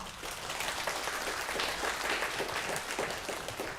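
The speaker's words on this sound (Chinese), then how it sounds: "我们拍手来欢迎他们" A church congregation applauding to welcome guests at a Sunday service, a dense, fairly soft burst of many hands clapping together at a steady level, heard across the room with no speech.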